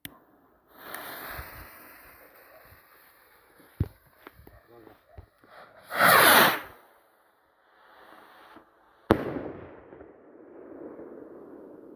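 A firework rocket launches with a rushing whoosh and bursts loudly nearby, followed by a sharp crack, with people talking quietly before and after.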